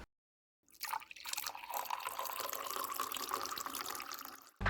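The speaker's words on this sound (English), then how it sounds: "here's a cool intro video of me pouring milk into some cereal" Milk pours into a bowl of cereal indoors in a steady liquid stream that runs for about four seconds after a brief silence, ending in a louder clunk.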